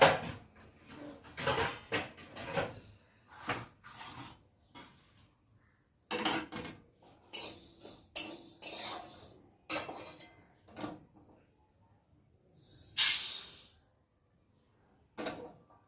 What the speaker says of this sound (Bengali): গামলার মধ্যে ডালটাকে তুলে নেব।